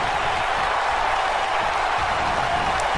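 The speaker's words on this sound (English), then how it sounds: "Listen to the crowd. The crowd is just loving this." A wrestling crowd at a PWR event roars steadily in a continuous, dense wash of cheering and applause, loud and unbroken throughout, with no clear voices standing out.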